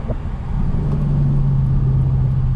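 Mercedes E55 AMG with the supercharged M113K V8, heard from inside while driving: a loud, steady low engine drone with a rising hum, close and continuous, with no talk over it.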